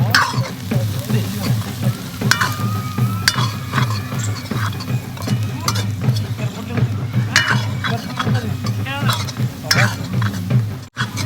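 A mixed spice blend tipped into a hot pan for a Gujarati rotla dish, sizzling loudly and continuously while a spoon stirs and clinks against the pan close by.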